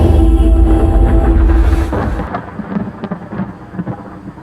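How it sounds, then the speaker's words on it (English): Deep, loud thunder rumbles heavily, then cuts off abruptly into rain and scattered crackles. "I have a thunder sound effect that could maybe blend with that."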